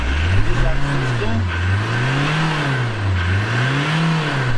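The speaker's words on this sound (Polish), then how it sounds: "Przygazuj trochę. Patrz, jak na obroty wchodzi." Car engine revving with a rising and falling drone that swells and eases in repeated cycles, close and loud, with people talking over it.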